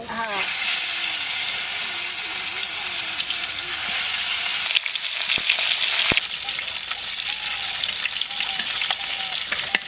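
Mustard oil sizzles loudly and steadily in a wok while frying koi fish, with occasional scraping stir strokes over the constant hiss.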